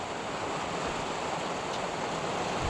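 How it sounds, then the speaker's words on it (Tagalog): Heavy rain pours steadily on a house with a leaking roof full of holes, water dripping inside; a dense, continuous hiss of downpour fills the whole stretch with no talk. "Ang lakas ng ulan at palaging tumutulo ko dito sa loob ng bahay."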